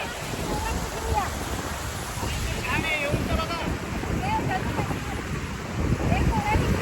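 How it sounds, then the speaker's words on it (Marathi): Strongly flowing water at a village in Maharashtra, a broad steady rush with wind buffeting the microphone throughout, while people talk and call out over it. "पाणी बघा किती भारी येते."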